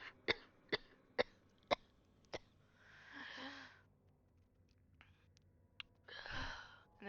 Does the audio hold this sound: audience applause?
no